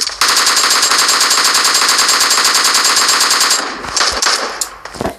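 Video game gunfire: a loud continuous automatic burst lasting several seconds, then scattered single shots and bangs.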